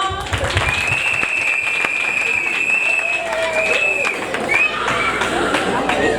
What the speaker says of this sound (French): Parfait, parfait! Applaudissements!